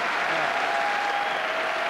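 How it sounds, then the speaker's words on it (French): Studio audience applause on a French television show, a dense, even wash of many clapping hands sustained throughout with no break. "ça, mérite quelques applaudissements"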